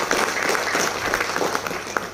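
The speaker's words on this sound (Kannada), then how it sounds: "ಅವರ ಉತ್ಸಾಹಕ್ಕೆ ನೀವೆಲ್ಲ ಜೋರಾಗಿ ಒಂದಾರು ಚಪ್ಪಾಳೆ ಅಂತ" An audience in a hall claps together in a dense, steady round of applause that stays loud and even throughout, with no voices rising above it.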